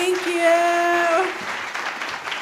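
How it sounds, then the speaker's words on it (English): Audience at a conference event applauding a presenter named Ashley, a short burst of clapping that tails off after about a second and a half while a voice speaks over it. "give Ashley a round of applause"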